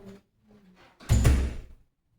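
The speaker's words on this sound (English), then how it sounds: "Someone just knocking at the door." Someone knocking at a door: a short, loud cluster of near knocks thuds out after a quiet stretch, then stops.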